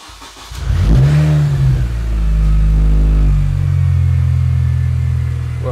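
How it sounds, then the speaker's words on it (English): Mini Cooper with dashboard cluster and warning-light faults starting up close by: a brief cranking whir catches into a loud engine that revs up, then settles into a steady, rumbling idle. "Let's start the car."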